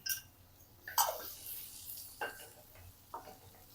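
Onion frying in butter and oil in a pan, a steady faint sizzle broken by a few sharp scrapes and clinks of a spoon stirring against the pan.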